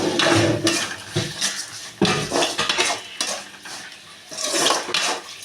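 Onions and tomatoes cooking in a pan while a utensil stirs and scrapes against the metal, giving repeated close clinks and scraping strokes over a faint sizzle, with no talking.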